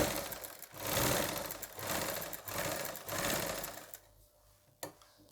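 A motor-driven sewing machine stitches long stitches in steady whirring runs that surge and ease several times, close by, then stops with a brief clack and no talking.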